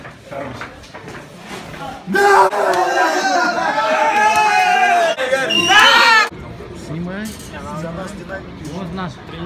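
FC Ufa football fans greet their team after a win over Spartak with a burst of loud crowd shouting and screaming at close range, rising sharply for a few seconds, then dropping back under nearby chatter and talk.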